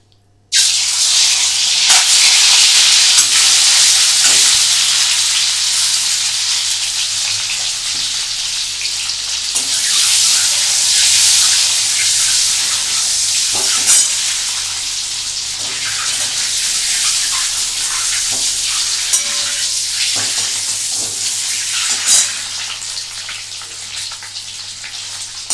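Duck eggs frying gently in oil over lowered heat: a loud, dense, continuous hiss of sputtering oil that holds steady throughout, with occasional small pops.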